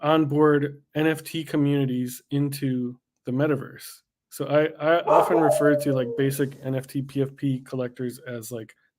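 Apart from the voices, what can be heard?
No distinct noise like a dog, phone or traffic.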